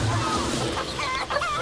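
A hen about to lay eggs clucks close by in a backyard coop, with a rooster nearby, giving a steady run of throaty, murmuring clucks that fill the whole short stretch with no talk over it.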